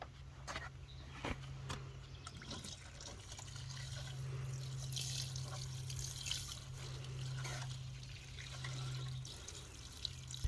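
Water poured gently over a freshly transplanted perennial plant in warm weather, a steady soft trickle and splash that runs for most of the stretch, close by and fairly quiet, with no one talking.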